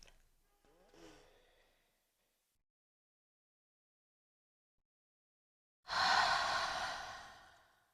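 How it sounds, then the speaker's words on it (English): A soft, close deep breath in a quiet, soft-spoken tarot reading: a faint inhale early on, a long silence, then a full, airy exhale that slowly fades away. "let's seal all these messages in with a nice deep breath"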